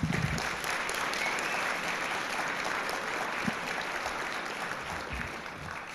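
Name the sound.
audience applause for guide dog school staff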